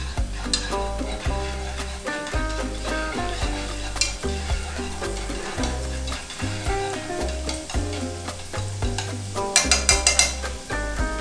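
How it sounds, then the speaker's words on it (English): Spring onions frying in oil in a pan for a pan-fried tofu dish, giving a steady sizzle heard alongside music with a strong rhythmic beat throughout. "cook for around like 2 minutes until the aroma come out. Then we call this is spring onion oil."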